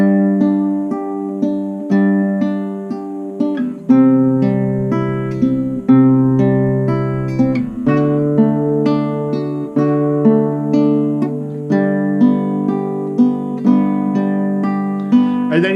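Classical guitar played fingerstyle in a thumb, index, middle picking pattern: clear plucked notes in a steady repeating rhythm with ringing sustained bass, close and alone.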